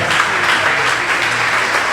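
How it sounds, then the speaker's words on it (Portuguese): Loud, dense applause from a church congregation at a Wednesday worship service, a continuous wash of clapping with no gaps. "Pode aplaudir Jesus bem forte."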